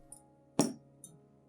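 A clean glass cup gives a single sharp clink as it is handled, one bright strike followed by a short ring, with faint small taps just before and after in a quiet room.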